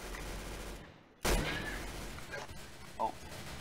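A heavy gun in the Roblox Arsenal video game fires one sudden loud blast after a brief silence, followed by fainter game sounds.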